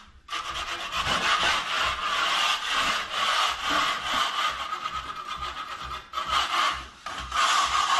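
Steady abrasive rubbing of sandpaper over a skim-coated interior house wall, a continuous close scratchy rasp with brief pauses, with no talking.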